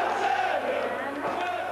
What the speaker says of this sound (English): There's a record crowd at Wadden Road